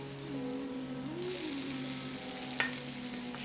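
Potatoes stir-fried with onion, garlic and ginger in a pan, giving a quiet, steady hiss of frying with a single sharp utensil tap near the end, faint and continuous.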